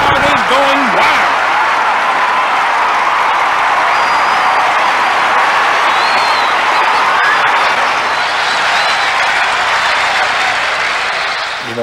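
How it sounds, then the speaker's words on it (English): Baseball stadium crowd roaring and applauding after a home run, a dense sustained wall of cheering and clapping, loud and continuous, with a brief voice at the start. "the crowd is going wild"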